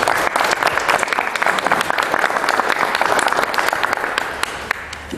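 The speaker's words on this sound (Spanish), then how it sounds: "recibamos con un cálido aplauso al doctor Gómez Leite" An audience applauds warmly to welcome a speaker at a public administration institute, a dense, even wash of many hands clapping close by for several seconds.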